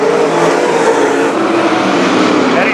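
Late model race cars roar around Mount Pleasant Speedway out of turn four toward the white flag, a loud, sustained engine drone close by and unbroken, with no talk over it.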